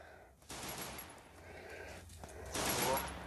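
Bursts of rapid game gunfire crackle in two loud volleys, separated by a stretch of steadier shooting noise.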